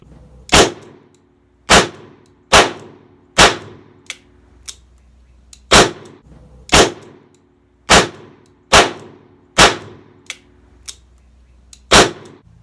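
Loud, close gunshots from a 2020 Colt Python revolver firing .38 Special Blazer hollow points double action at 10 yards, about a dozen sharp reports at an uneven pace with ringing decay and no talking.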